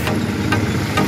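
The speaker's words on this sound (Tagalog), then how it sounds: "kahit yung andar po ng makina niyan, makikita mong swabing-swabe lang siya" A 2017 Toyota Innova engine idles smoothly and steadily, a low continuous hum with faint mechanical ticking, close by and alone.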